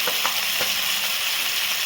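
Mustard seeds sizzle and crackle in hot oil, a bright steady frying hiss with small pops near the start, close up and without speech.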